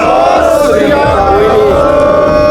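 Large crowd shouting the Sikh jaikara response to Bole So Nihal at a gathering on sand rights, a loud sustained massed roar of many voices that fills the whole moment.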